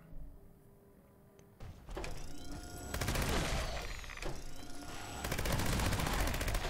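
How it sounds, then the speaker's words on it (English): Gauss minigun in Fallout 76 fitted with an anti-armor, faster-fire-rate mod, spinning up and then firing in sustained rapid bursts, loud and dense, with short pauses between long streams of shots. "the first Gauss minigun we're going to be looking at is the anti-armor faster fire rate."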